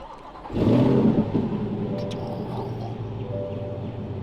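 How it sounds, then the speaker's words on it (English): A car engine cranks and fires up with a loud burst, then settles into a steady, rumbling idle close by. "Not a bad fire up sound."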